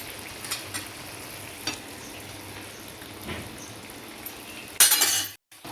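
Egg curry gravy, with five eggs broken into it, bubbles and sizzles in a pan while a spoon stirs it, giving soft scraping and a few clinks against the metal, then a louder burst of sizzling near the end.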